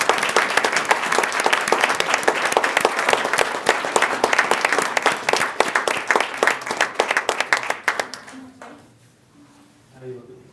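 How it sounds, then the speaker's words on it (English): A town council meeting audience claps together in a dense burst of applause that runs strong for about eight seconds, then thins into a few scattered claps and fades into quiet room noise and faint murmuring. "She deserves her own applause, too."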